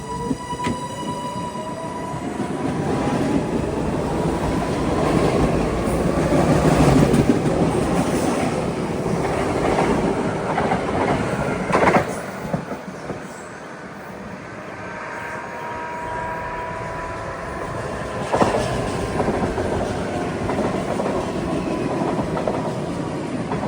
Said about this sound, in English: with the one of those traction motors, it sounds like it's going much faster